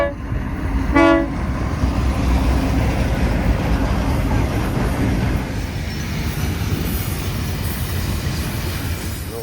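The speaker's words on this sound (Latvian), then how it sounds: "Jā, mēs braucam ar vilcienu." Train interior rumble during a ride through South Africa, steady rolling noise with rattling carriages and a brief whistle-like toot near the start, continuous and fairly loud throughout.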